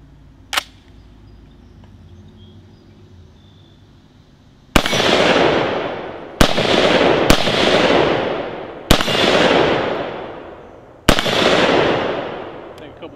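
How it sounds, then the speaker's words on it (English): A Beretta ARX 100 rifle fires five sharp, loud shots with open sights at an outdoor target, each crack followed by a long ringing decay, spaced irregularly over several seconds after a faint earlier tap. "couple of shots at that small gearhead works target"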